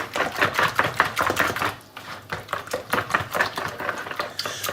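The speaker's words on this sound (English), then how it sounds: "we're going to whisk the eggs into the batter" Eggs whisked into potato pancake batter produce a rapid, rhythmic clatter of the whisk against the bowl, close and fairly loud, with a brief pause midway before the quick strokes resume.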